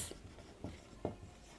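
Chalk or marker strokes on a classroom board during a chemistry lesson on writing valencies, a few short scratchy taps spaced apart, faint and close, with no talk.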